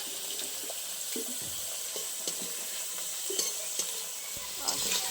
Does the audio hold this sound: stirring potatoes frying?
yes